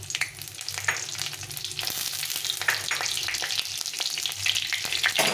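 Dried red chilli, two bay leaves and cumin seeds frying in hot oil in a pan, a continuous close crackling sizzle with light stirring scrapes and small pops.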